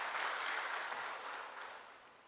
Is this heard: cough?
no